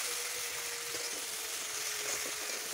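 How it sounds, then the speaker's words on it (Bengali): Potato pieces with salt, turmeric, dried red chili, ginger and cumin fry in a pan, giving a steady, close hiss of sizzling oil that holds evenly throughout without talk. "আলু কলাটা মশলা দিয়ে নুন হলুদ দিয়ে ভালো করে কষিয়ে নেওয়া হচ্ছে।"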